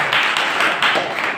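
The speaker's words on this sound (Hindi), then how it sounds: "जोरदार तालियां प्रदीप जी के लिए" Applause for Pradeep ji at a Teachers' Day gathering, a brief burst of many hands clapping, dense and fairly loud over little more than a second.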